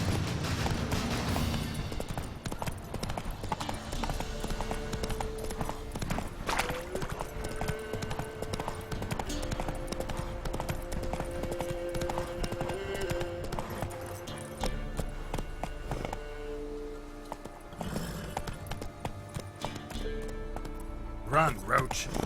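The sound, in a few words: horse Roach galloping in video game Witcher 3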